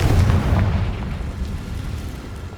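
A heavy Confringo spell explosion from Hogwarts Legacy strikes with a deep, loud boom, then rumbles and slowly fades.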